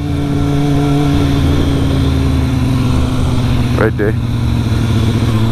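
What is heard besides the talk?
pit bike engine revving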